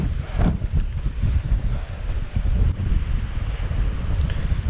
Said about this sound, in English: It's very windy around here.